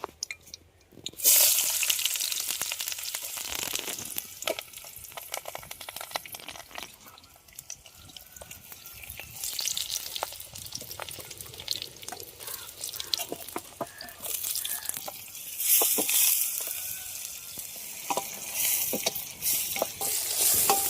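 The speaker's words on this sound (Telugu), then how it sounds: "ఆయిల్ అయితే పోసేస్తా. ఇంకా ఉల్లిపాయ, పచ్చిమిర్చి ఇవన్నీ వేసేసుకోవాలి." Onion and green chillies fry in oil in a pan with a continuous crackling sizzle, broken by frequent stirring scrapes and clatter. A brief louder burst opens it, and the frying swells again near the end.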